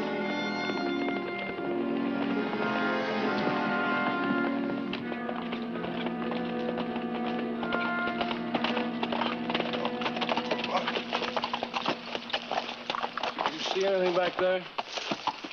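Horses ridden out of town in a western radio drama, hooves clip-clopping steadily under music and a voice, with the hoofbeats growing busier and more prominent in the second half.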